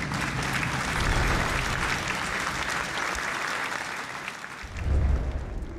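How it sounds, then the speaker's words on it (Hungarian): Applause from the video game Darkest Dungeon 2: a steady wash of crowd clapping runs for several seconds, moderately loud, with a low rumble swelling briefly near the end. "jár a taps"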